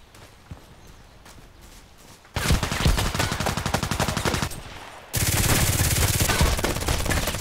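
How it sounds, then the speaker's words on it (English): Rapid automatic bursts from a Glock 18 pistol in the shooter game Contract Wars, two sustained strings of crisp, closely spaced shots with a metallic ticking edge, loud and near, after a quieter stretch of ambient game noise. "the sound of the Glock is nice. This little metallic thing, like tick tick."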